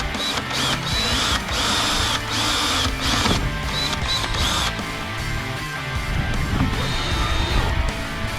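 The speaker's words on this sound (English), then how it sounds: "We did have to drill more holes" Power drill boring holes during well house plumbing repair, a loud sustained whine that starts and stops in several bursts with rattling mechanical noise between them, close to the microphone.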